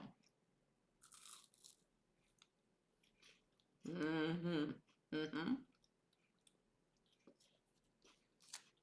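Someone bites and chews a Kinder Bueno chocolate bar up close, giving two loud crunchy bursts followed by softer chewing, with faint rustles in between.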